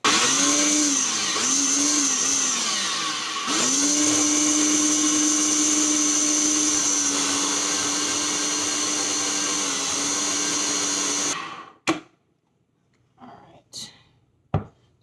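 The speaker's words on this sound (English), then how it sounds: "So we have everything in our little hand blender here." A hand blender whirs loudly and steadily through soup for about eleven seconds, its motor pitch dipping briefly, then cuts off, followed by a few short clunks.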